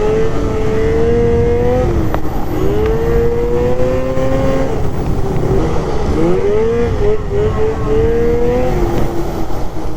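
A snowmobile engine revs hard at high RPM, a loud, close whine that rises and drops through several throttle surges over the stretch.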